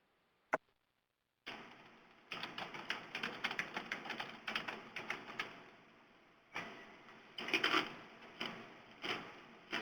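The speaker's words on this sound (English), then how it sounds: "somebody's typing that's on the call." Someone types on a keyboard during a webinar call, quiet, rapid clicking keystrokes in irregular bursts, with brief pauses between runs of tapping, faint and close over a thin line.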